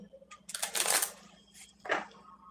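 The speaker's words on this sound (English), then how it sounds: "Let's shuffle up the decks." Decks of cards are shuffled up close during a live spiritual reading session, two quick riffling bursts, the first longer, then a shorter one, quiet and without talk.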